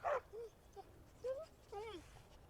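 A stray dog in the video game Skyrim makes several short yips and whimpering barks, spaced irregularly and fairly faint against quiet game ambience.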